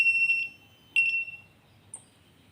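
A BNWAS alarm buzzer on a ship's bridge panel gives sharp, high electronic tones: a steady beep, a second tone that fades out, then a faint short chirp, heard alone in a quiet room.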